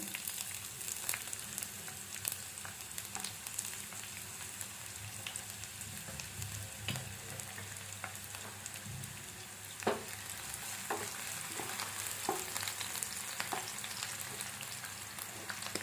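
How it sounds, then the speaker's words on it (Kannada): Sliced onions frying in hot oil for palak rice make a continuous soft sizzle, with occasional spatula taps and scrapes, quiet and close, and no voices. "ಕಟ್ ಮಾಡಿ ಇಟ್ಕೊಂಡಿರೋ ಈರುಳ್ಳಿ ಹಾಕ್ಕೊಳ್ತಾ ಇದ್ದೀನಿ"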